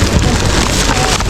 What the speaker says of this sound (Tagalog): Nabutan na tayo ng malakas na ulan.